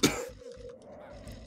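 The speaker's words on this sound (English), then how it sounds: "I had to take a second to cough." A single loud cough bursts out at the start, followed by a low rumbling throat sound that lingers faintly for about a second.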